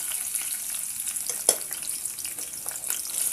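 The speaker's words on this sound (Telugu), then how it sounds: "లైట్ బ్రౌన్ కలర్ వచ్చేంత వరకు ఫ్రై చేసుకోండి" Onion, slit green chillies, cinnamon, cloves, bay leaf and cardamom frying in oil for a potato chicken curry, a steady soft sizzle with a sharp crackle or stir clatter near the middle.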